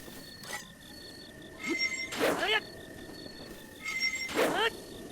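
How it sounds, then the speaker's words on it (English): Restless crickets in Zelda: Breath of the Wild give short, high trilling chirps in a couple of bursts over a steady, faint game ambience. "How about we go to get the restless crickets instead?"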